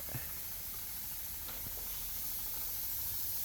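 Steady hiss of pesticide being sprayed onto cardamom plants, a constant close spray with no talking.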